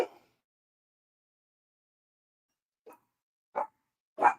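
Excited dogs bark in short, sharp bursts as someone comes home: one bark at the start, a pause, then three quick barks close together near the end, fairly loud and close.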